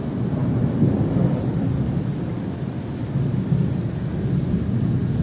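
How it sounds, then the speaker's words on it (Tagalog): A thunderstorm with heavy rain in Saudi Arabia gives a steady, loud wash of downpour and deep rumbling that swells and eases throughout, with no voices. "Grabe, bagyo na naman guys."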